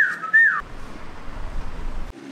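A person whistles a short, bright rising-and-falling tune near the start, then it gives way to low rumbling background noise, aboard a sailing charter boat in the Greek islands.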